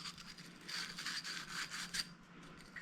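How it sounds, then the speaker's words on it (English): Sandpaper rubs back and forth along the cut edge of a pipe to clear burrs during a SharkBite fitting install, a soft, steady rasping in short strokes, fairly quiet and with no talk. "take our sandpaper and we'll just make sure we get that edge"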